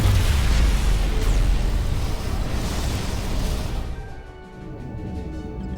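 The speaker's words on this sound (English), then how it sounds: "Whoa! Dilithium explosion!" A phaser-triggered dilithium crystal explosion in the video game Star Trek: Resurgence booms loudly with a heavy low rumble that fades after a few seconds into a quieter tonal hum.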